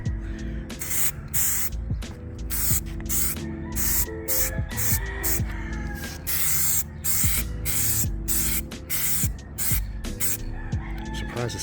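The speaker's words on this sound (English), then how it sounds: "just go ahead and spray some of this on here." Adhesion promoter hissing from a spray can onto a plastic Audi Allroad bumper in repeated short bursts with brief pauses between, loud and close, with scattered clicks and no speech.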